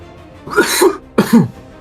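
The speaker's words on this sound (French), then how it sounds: "J'ai une petite toux." Two short coughs from a person close by, separated by a brief pause, with nothing else around them.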